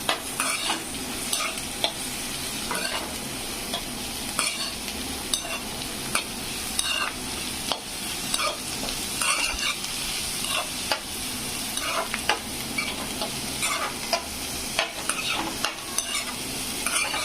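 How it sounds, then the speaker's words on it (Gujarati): Capsicum and chili sautéing in hot oil for a spicy vegetable Maggi masala, a steady close sizzle with frequent scraping stirs of the spoon in the pan throughout, no voices. "હવે આપણે આ કેપ્સિકમ ને મરચું નાખી દેશું અને સોટે કરી લેશું તેલમાં."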